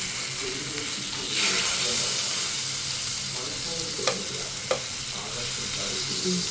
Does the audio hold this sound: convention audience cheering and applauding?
no